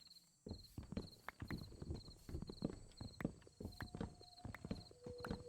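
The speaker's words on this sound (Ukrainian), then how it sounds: "Я чув звук, наче хто по цьому бігає." Footsteps of something running inside a house in Minecraft, a fast run of faint blocky steps and clip-clop-like taps that keep going over a low background.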